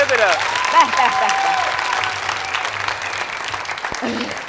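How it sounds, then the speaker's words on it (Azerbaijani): A studio audience applauds on a television show set, with dense, steady clapping filling the whole stretch while a voice speaks over it. "Alqış istəyirik"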